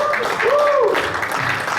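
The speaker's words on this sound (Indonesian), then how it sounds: "Tentunya boleh kita beri aplaus dulu untuk acara ini" Applause from a crowd at a Halal Bi Halal gathering, a steady wash of clapping running throughout while a voice rises over it in a brief tonal, sung-like call.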